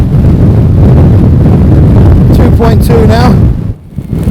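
Strong gusting wind of about 39 mph roars loudly across a mountain summit, buffeting the microphone steadily before briefly dropping near the end, with a short spoken phrase over it.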